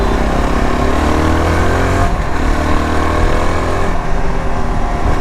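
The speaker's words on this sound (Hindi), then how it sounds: "एग्जॉस्ट नोट भी काफ़ी प्यारे से हैं।" A 2025 Yezdi Adventure motorcycle's exhaust note as the throttle opens, a loud continuous engine drone rising in pitch through acceleration, close and steady for several seconds with no talk.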